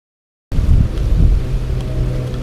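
Strong, steady wind roaring and buffeting a microphone beside water during tree care work, a dense low rumble that starts abruptly and keeps blowing without pause.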